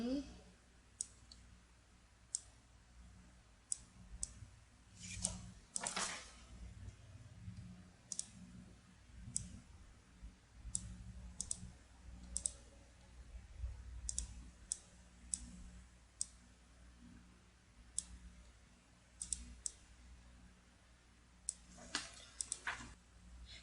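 Sharp, quiet computer mouse clicks recur irregularly, singly and in quick pairs, while a user arranges and reorders shapes in drawing software, with a faint low hum underneath and no voice.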